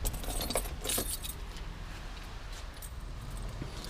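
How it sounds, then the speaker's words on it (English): A fuel cap key on a ring jangles with light metallic clinks in a few close bursts, strongest near the start, then settling into softer rattles over a steady low background. "This here is your fuel cap key."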